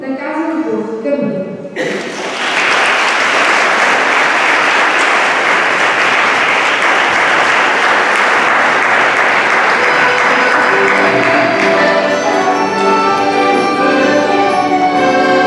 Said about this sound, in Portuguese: Vamos então receber com o aplauso o grupo da Casa do Povo de Cabril.